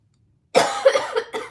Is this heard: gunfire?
no